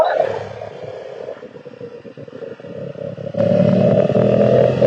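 Motorcycles and cars climb the Stelvio Pass, a steady close engine roar and drone that swells abruptly louder partway through as a vehicle comes near.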